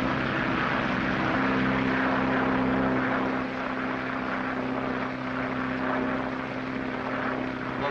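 A propeller airplane takes off in a 1937 film about a transatlantic flight, its engine giving a loud, steady droning hum that holds throughout and eases a little near the end.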